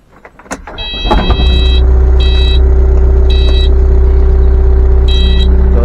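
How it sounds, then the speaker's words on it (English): A skid loader engine cranks and catches about a second in, then settles into a loud, steady diesel idle, with bursts of high electronic beeping chiming over it. "I'm going to start this skid loader up"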